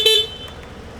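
A 2024 Suzuki Burgman EX motor scooter gives one short, sharp toot of its horn, loud and close, which fades into quiet background noise.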